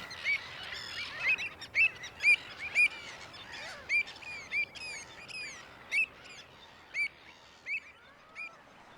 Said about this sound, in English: Numerous species of birds make use of the habitats around the lagoons